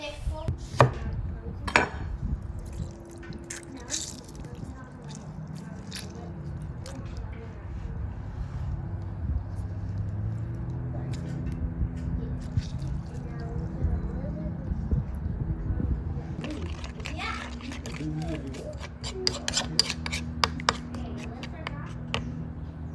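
Kitchen knife grinding garlic with coarse salt into a paste on a cutting board, a steady run of close scraping and chopping strokes that continues under a person talking throughout.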